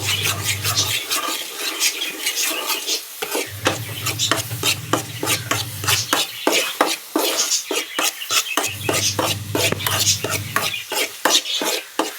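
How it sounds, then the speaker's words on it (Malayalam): Green gram laddu mixture stirred continuously in a pan, with rapid rhythmic scraping and clinks of a spoon against metal over a soft sizzle, loud and close, with a low hum coming and going. "ഇങ്ങനെ കൈ എടുക്കാതെ തന്നെ ഇളക്കി കൊടുക്കണം"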